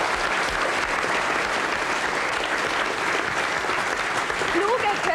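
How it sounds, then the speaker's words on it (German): Lively applause from a crowd at a 1999 Frühschoppen in Straßwalchen, a dense continuous clatter of hands that stays loud throughout, with a faint voice or whistle-like tone surfacing near the end. "Ein Applaus für den Martin Schwab"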